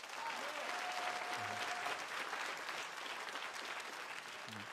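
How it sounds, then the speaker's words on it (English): Comedy club audience applauding, a steady wash of clapping at moderate distance with a faint crowd murmur, holding evenly for a few seconds. "Clap it up for that."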